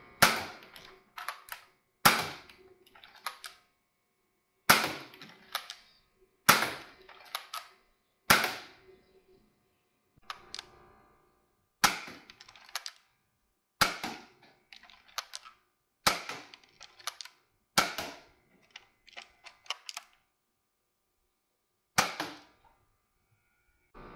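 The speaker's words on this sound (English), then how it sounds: "only thing left to do now is fire a few shots out of this. I'm going to be firing some X-Shot darts" Nerf Hammershot blaster firing X-Shot foam darts, around a dozen sharp, close spring-powered snaps separated by gaps of a second or more, each with a short rattling tail, and no talk.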